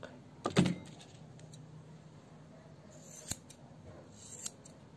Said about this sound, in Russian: ножницы шикарные